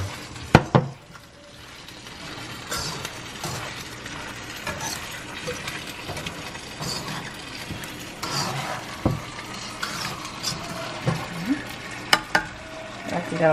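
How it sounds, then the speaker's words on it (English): General Tso chicken is stirred and tossed in a pan, with soft sizzling throughout and scattered sharp scrapes and clinks of the utensil against the pan, fairly close by. "we're gonna mix this here, making sure everything is mixed in well"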